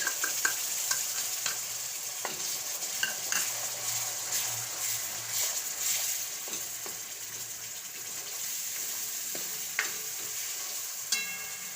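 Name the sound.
grated tomato frying in a pan with chutney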